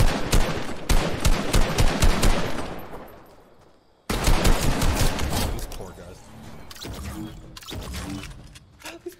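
Rapid video-game gunfire rattles in dense automatic bursts, fading out, cutting off, then resuming with sharp repeated shots under excited talk.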